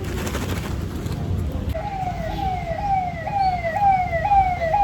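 An ambulance siren wails in rising, repeating sweeps that grow louder as the vehicle approaches through road traffic noise, with no voices over it.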